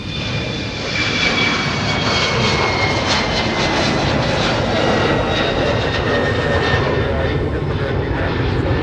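A Delta jet airliner departing Minneapolis–Saint Paul airport gives off a loud, sustained engine roar with a rising whine, steady and close, while someone talks faintly underneath.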